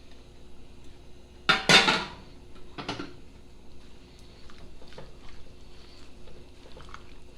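Collard greens go into a pot of Grenadian oil down stew that is coming to a boil. A brief burst of rustling and a clank of metal sound close, then fade to soft bubbling and small clinks.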